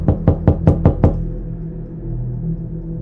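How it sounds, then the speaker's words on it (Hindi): Someone pounds hard on the door of a house near a forest in Mussoorie: five loud, evenly spaced knocks, then a low, quiet hum. "उनमें से एक का दरवाज़ा जोर जोर से खटखटाने लगा"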